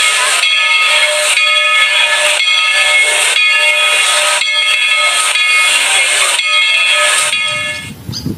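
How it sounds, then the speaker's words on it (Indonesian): A blue Thomas toy train sounds its steam whistle in a run of about seven loud, shrill hissing blasts in quick succession, close and alone, ending in faint handling noise. "Widih, warna biru kereta api Thomas."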